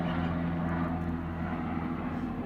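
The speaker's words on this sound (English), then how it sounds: "it's not a plane, it's a helicopter. Might be the rescue helicopter going overhead" A rescue helicopter passes overhead while transiting toward a city hospital, giving a steady, low droning rotor and engine hum that holds an even, fairly loud level throughout, with no one talking.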